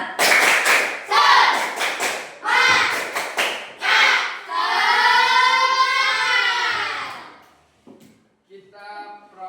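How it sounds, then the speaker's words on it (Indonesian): Students at a school positive-culture session perform a rhythmic spirit clap, with bursts of loud claps and chanted voices followed by a long sustained group shout, then a quieter tail. "Tepuk semangat."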